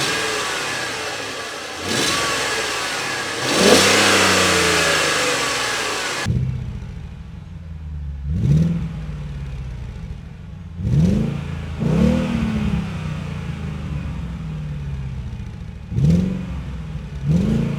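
Audi RS 6 Avant C5 with a 4.2-litre biturbo V8 making 450 PS, first a long loud rev, then five or six sharp throttle blips rising and falling over a steady idle, close up with no talk.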